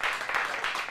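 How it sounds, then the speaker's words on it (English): Short burst of audience applause from a group of kids at an acting class, dense scattered clapping throughout. "So give him a round of applause."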